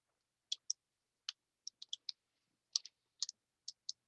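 Sharp computer mouse clicks, mostly in quick double-click pairs, separated by short gaps of silence during database query design work, close and crisp with no voice.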